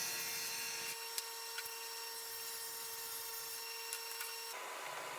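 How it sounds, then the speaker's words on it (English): A table saw trims plywood bookcase shelves to size for a fireplace mantel surround. Its steady, whining hum holds for several seconds with a few faint ticks, then cuts off abruptly, leaving a quieter background. "Now I'm just going to trim these shelves up to their final dimensions on the table saw"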